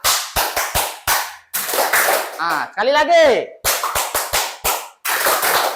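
A school class claps the PJOK physical-education clap chant, sharp rhythmic bursts of many hands in quick patterns, broken by a chanted, sung phrase and a teacher's voice.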